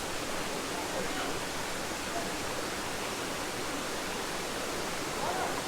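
Kadavupuzha waterfall in a hidden scenic spot, a dense, loud, unbroken roar of falling water heard up close, steady throughout with no other sounds standing out.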